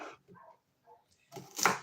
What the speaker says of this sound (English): You hear all that barking in the background?